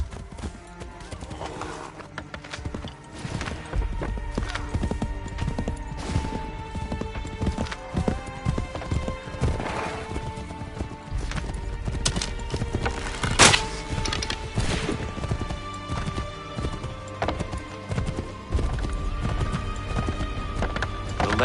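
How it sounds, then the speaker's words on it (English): Horse hooves in Assassin's Creed 3 clip-clop steadily at a quick gait, close and prominent, with an occasional whinny and some low thuds beneath the rhythm. "Get on that horse."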